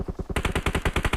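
Automatic gunfire from the mobile battle-royale game PUBG Mobile: a quick burst of close, rapid shots that grows louder partway through and continues in a steady, punchy rhythm.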